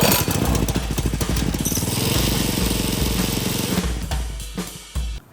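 A homemade motor trike engine runs loud and close, a rapid rough chugging beat that holds steady before cutting out near the end.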